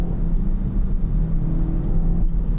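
A 2024 Acura Integra Type S (DE5) with a turbocharged engine drives along, its steady, muted engine drone and road rumble heard from inside the cabin.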